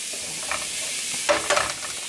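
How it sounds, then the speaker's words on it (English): Butter and roux mixture sizzles softly in a pan as it is stirred, a steady close frying hiss with a few scraping stir sounds and no talk. "And mix that all in. You will kind of want to make a roux a little bit, so to speak."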